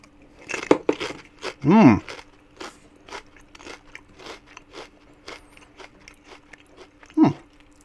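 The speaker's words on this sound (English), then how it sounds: "These are really crunchy." Crisp crunching and chewing of CO2 chips shaped and textured like Pringles, several sharp bites followed by softer chewing, close to the mic, with someone talking intermittently.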